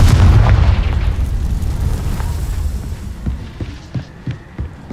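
A Confringo explosion spell in Hogwarts Legacy bursts with a loud, close boom that rumbles and fades, followed by a run of smaller thuds and pops trailing off toward the end.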